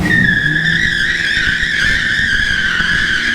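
C5 Corvette doing a burnout in a garage, tires squealing in a loud, sustained high-pitched screech over the engine's rumble, close and continuous.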